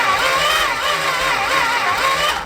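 A crushed, long-seized Dodge Charger engine is cranked on a freshly charged Optima battery, giving a loud, close, continuous churning drone with a wavering, uneven pitch that cuts off at the end.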